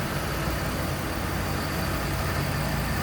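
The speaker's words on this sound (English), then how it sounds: "how smooth that 3800 runs" A 1993 Buick Riviera with a GM 3800 engine idles steadily and smoothly, a continuous low even hum close by with no talking.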